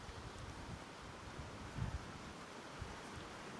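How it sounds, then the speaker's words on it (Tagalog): Strong gusting wind buffets the microphone on a beach campsite, a continuous low rumble with a brief louder burst midway and no talk. "Ang lakas ng hangin."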